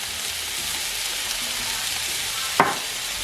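Cinnamon, chili and paprika are stirred in a frying pan, a continuous close sizzle and scrape with one brief clatter near the end.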